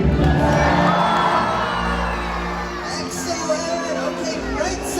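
A large stadium crowd cheers and whoops for a leaping killer whale at an orca show, with children's shouts rising in a loud, continuous roar that swells and fades.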